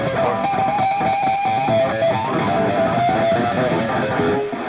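Electric guitar played with a harmonic flutter trick, a continuous shimmering run of rapid, wavering notes with ringing harmonics, loud and sustained throughout with no talking.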